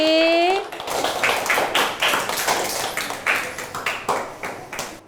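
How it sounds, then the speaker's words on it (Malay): Pupils in a Year 4 music class clap for group C, a string of rhythmic, fairly close hand claps that follows a brief voice at the start and continues evenly to the end. "bagi tepukan untuk kumpulan C"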